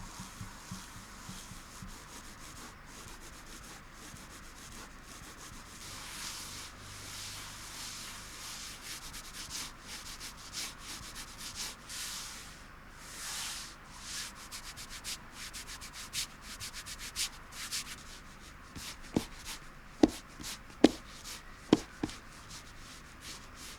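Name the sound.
mouse sliding on X-raypad Aqua Control Pro Neon mousepad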